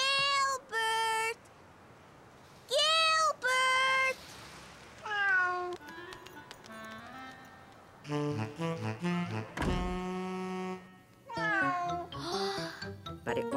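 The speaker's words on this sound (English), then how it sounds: "It was Sarah's cat, Ollie." An animated cartoon cat meows repeatedly in loud, close, drawn-out cries, a pair at a time, then gives a run of busier mixed cartoon sound toward the end.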